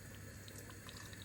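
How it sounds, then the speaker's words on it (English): Water being poured into a simmering pot of fesenjan, an Iranian chicken stew with walnuts and pomegranate, giving a steady close trickling and splashing wash that lasts the whole moment with no talk. "I'm going to add about 200 more milliliters of water"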